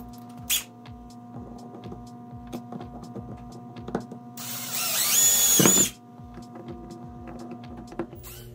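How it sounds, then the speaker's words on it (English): A power drill whines loudly for about a second and a half as it bores holes into metal winch backing plates, set against a steady mechanical hum and light clicks. "I'm gonna drill my holes without the circles cut out"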